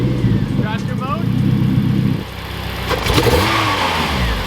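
A turbocharged Honda Civic K20 engine revs loudly with its exhaust valve open, a coarse, rattling note, drops off briefly, then climbs again, with voices chatting nearby.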